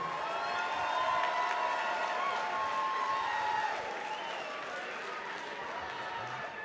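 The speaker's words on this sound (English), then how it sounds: "give yourself a round of applause" Fight night event crowd applauding and cheering in a large venue, a steady wash of clapping and crowd noise that swells early then settles, with voices mixed in.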